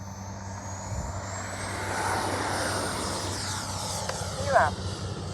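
A small FlyFans L-39 RC model jet in Black Diamond livery flying outdoors, its thin steady whine and a continuous engine drone carrying through the whole stretch, moderately near.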